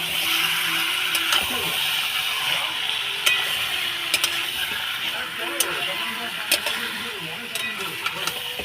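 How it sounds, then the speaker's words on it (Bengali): Chicken being stirred and fried in a pan on a low flame, a steady soft sizzle with scraping spatula strokes and occasional metallic knocks, close and continuous. "এটাকে ভালো করে মিশিয়ে নেবো মাংসটাকে এখানে ফ্লেমটা আমি লোতে রাখবো"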